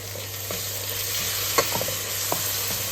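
Masala of tomato, coriander, mint and ginger-garlic paste fries steadily in a pan, a constant close sizzle broken by a few sharp scrapes from a stirring spoon.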